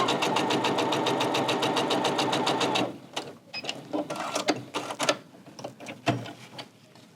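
A Husqvarna Viking Onyx 30 sewing machine stitches steadily and loudly for about three seconds with a fast, even rhythm, then stops, leaving scattered clicks and light handling noises.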